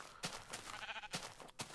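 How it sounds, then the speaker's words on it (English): Sheep bleat in Minecraft, a few separate cries rising over a steady low game background, fairly close and clear with no talk. "There's a lot of sheep."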